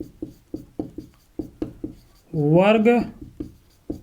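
Chalk or marker taps and strokes on a board in a physics lesson, short sharp knocks in an irregular rhythm, with a voice speaking briefly in the middle.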